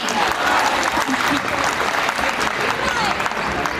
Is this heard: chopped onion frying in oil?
no